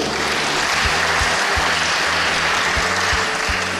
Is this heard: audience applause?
yes